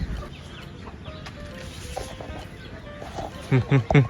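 A fighting cock clucks close by in a quick run of three or four loud calls at the end, following a stretch of low background murmur and faint voices.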